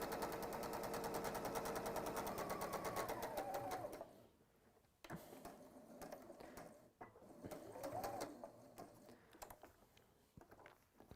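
Sewing machine stitching over elastic, a rapid close mechanical chatter for a few seconds that then stops, followed by quieter handling clicks and fabric movement.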